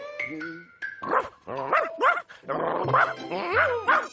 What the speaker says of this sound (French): Vilain Toutou, tu ne dois pas aboyer.